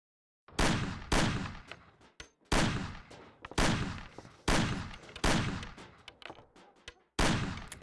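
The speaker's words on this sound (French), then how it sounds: "Voyons voir comment tu tires. Dégomme les conserves sur la table." Gunfire from a handgun in the game Mafia as shots knock tin cans off a table, about eight loud, sharp reports spaced roughly every half second to second, each with a short decaying tail.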